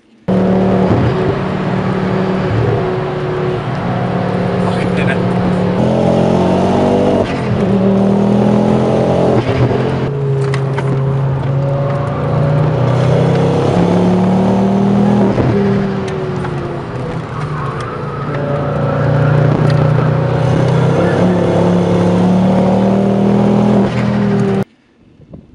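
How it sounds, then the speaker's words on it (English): A Ford RS drives a lap of the Nürburgring, its engine droning loud and close from inside the car, rising and falling through gear changes and acceleration before cutting off abruptly. "We went on track last night. I only did one lap. I went out in Phil's RS."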